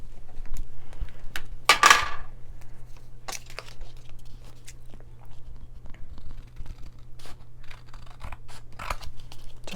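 Scissors snip through paper while a wedding card is being made, with a few crisp cuts and scattered rustling and crinkling over a low steady hum.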